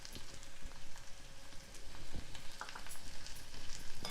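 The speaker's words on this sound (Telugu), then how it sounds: "ఒక పెద్ద టమాటా సన్నగా తరుక్కొని ఇది వేసుకోవాలి" Chopped tomato hits a broad bean curry in a hot pan, giving a busy, crackling sizzle with irregular pops and spatters, close and fairly steady throughout.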